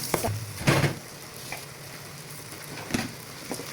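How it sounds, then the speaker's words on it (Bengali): Potatoes and green chilies frying in a pan for dry khichuri, with a steady sizzle broken by a few sharp stirring scrapes and clinks, close by and without talk. "এবার আমি এগুলোকে ভালোভাবে ভালোভাবে ভেজে নেবে"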